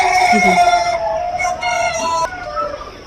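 A large flock of free-range chickens on a Pakistani poultry farm fills the air with dense, loud clucking and crowing, a steady chorus of many birds close by.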